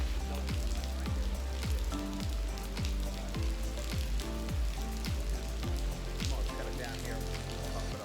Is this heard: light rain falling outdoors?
yes